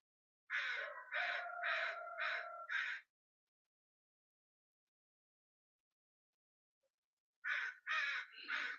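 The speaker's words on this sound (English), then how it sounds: "I got a really annoying crow out here right now that just started as soon as I pushed the live button" A single crow caws outside in two bursts. The first is a run of five harsh, evenly spaced caws. After a long silence, three more follow, fairly distant and clear.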